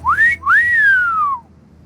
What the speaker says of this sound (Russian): Если бы я умела свистеть, я бы сделала так